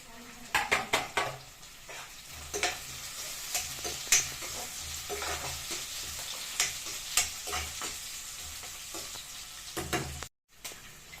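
Onions, curry leaves and green chilies fry in a pan for a brinjal curry, a soft sizzle under repeated sharp scrapes and clinks of a spoon stirring against the pan.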